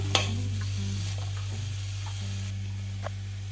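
Cauliflower and potato sautéing in oil, a soft steady sizzle under a constant low hum, with a sharp stirring clack at the start and a few faint scrapes after.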